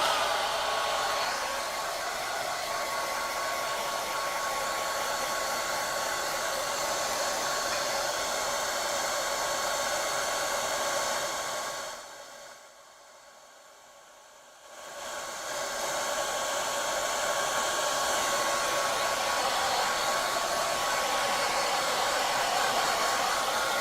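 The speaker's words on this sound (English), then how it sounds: "I'm going to dry this real quick, so I apologize for the dryer sound." A hair dryer blows on wet watercolor paint, a steady loud broadband whoosh that runs almost the whole time and cuts off briefly near the middle before starting again.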